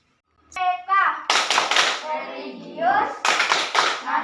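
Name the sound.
children clapping the PPK clap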